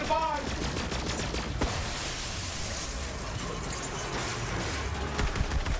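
Rapid, sustained gunfire from the Agonizer 9000 in Borderlands 3, a dense, loud wall of overlapping shots that runs without pause for nearly six seconds.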